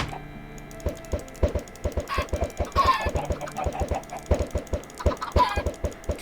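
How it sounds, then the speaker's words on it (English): Chickens clucking in the video game Technomancer, repeated sharp clucks and squawks from several birds over a rhythmic thumping game soundtrack, no voices. "we should be able to get more feathers just by killing a bunch of chickens here"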